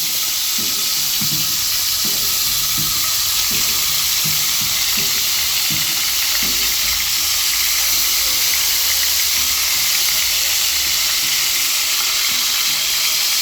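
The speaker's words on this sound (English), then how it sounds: "we're going to start to add the shrimp to the heated oil" Shrimp sizzle loudly in a pot of hot oil, a dense continuous crackle close up, with soft clunks of stirring in the first half.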